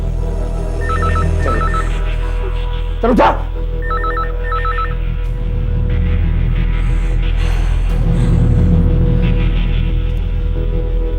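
A telephone rings with short repeated double trills, broken by a brief loud burst. A voice speaks once and a low background rumble runs beneath it.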